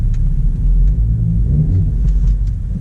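A manual-transmission car's engine rumbles low and steady as the driver feathers the gas while reversing, heard close and loud throughout with no speech.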